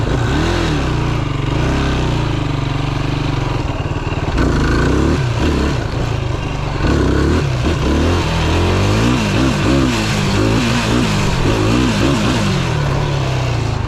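A Yamaha YFZ450R quad's engine runs loud and close on grass through a wheelie, its drone rising and falling with throttle, revving hard in the middle before easing off, with no voices over it.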